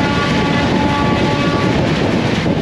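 The 12050 Gatimaan Express speeds through Morena station with a loud, continuous rushing roar of wheels and rails, steady and unbroken throughout.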